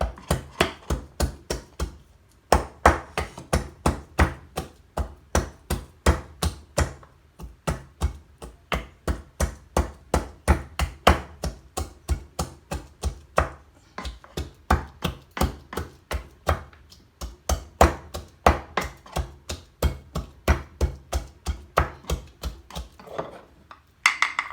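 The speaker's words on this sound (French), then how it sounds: "là, on va piler l'oignon, l'ail." Onion and garlic are pounded with a pestle for goat meat, a long run of rapid, regular thuds with a few brief pauses, close and loud, with no talking.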